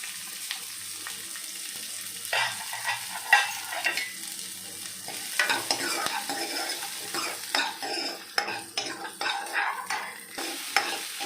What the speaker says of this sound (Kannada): ಈರುಳ್ಳಿ ಸ್ವಲ್ಪ ಬೇಯ್ತಾ ಇದೆ